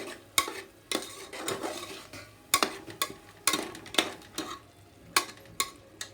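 Tomato paste and onions being sautéed in a pan, with a spoon scraping and stirring in repeated sharp strokes over a faint sizzle, close and alone without talk.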